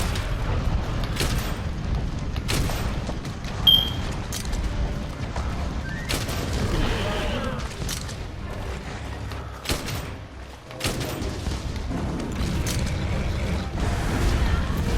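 Sticky ammo fired from a bowgun in Monster Hunter World: Iceborne, a series of sharp booming blasts at irregular intervals over a constant game background rumble.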